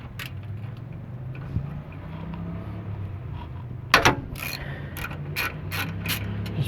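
A 3/8 ratchet wrench on a long extension with a swivel loosens oil filter adapter bolts on a Ford 5.4L engine, giving a sharp crack followed by rapid, close, repeated ratchet clicks, with no talking.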